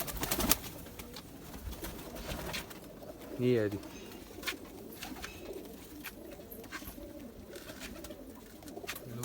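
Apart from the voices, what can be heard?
Zeera pigeon cooing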